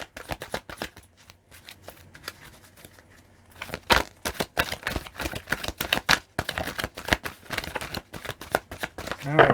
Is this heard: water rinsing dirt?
no